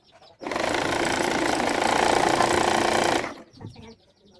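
A sewing machine stitches the side seam of a V-neck kameez in one close, loud, continuous whirring run of about three seconds, then cuts off into quiet handling noise.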